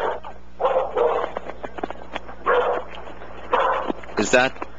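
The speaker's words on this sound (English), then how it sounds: "Do we have that dog here or there?" A dog barks in short bursts several times in the background of a phone interview, each bark close and moderately loud, ending with a higher yelp or whine.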